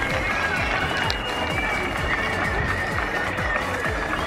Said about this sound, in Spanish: Aplaudiendo a las 8 de la noche a todos aquellos sanitarios